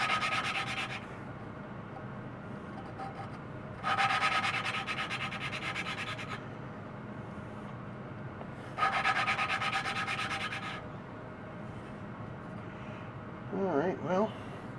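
Engine valves being lapped into their seats with lapping compound during a farm valve job, giving three separate bursts of gritty, rasping back-and-forth rubbing, close and steady, with a brief voice near the end.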